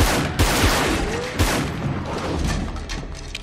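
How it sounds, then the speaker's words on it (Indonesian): Gunfire from a film's shootout scene, with bursts of shots and loud booming impacts crowding together over a dense, busy action soundtrack. "Mereka pun akhirnya bertemu dan saling menembak."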